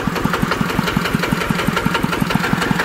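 Homemade electric-start farm vehicle engine idling close by with a steady, even chugging knock repeating about six times a second, loud and alone with no voices.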